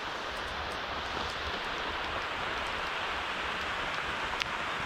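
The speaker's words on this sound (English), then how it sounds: "It's just started to rain a little bit more," Steady rain patters on leaves in a tropical forest, a dense, even wash of drops with a few brighter ticks close by, continuous throughout with no voices.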